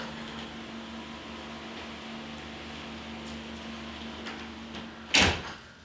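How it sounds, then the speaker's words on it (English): A door at a home kitchen eases open near the end, a brief sharp burst after a long stretch of steady appliance hum with faint clicks. "you always hear that door ease open"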